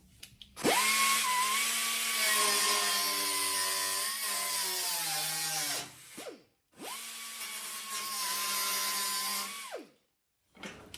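A power tool whines up and holds a steady high-pitched drone while cutting a stainless steel line on a 1972 VW Super Beetle. It runs for about five seconds, stops, then makes a second shorter cut, close by with no speech.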